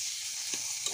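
Bottle gourd leaf paste with salt and turmeric is stirred in a pan, giving a soft continuous sizzle with two brief scraping strokes of the spoon, close and quiet.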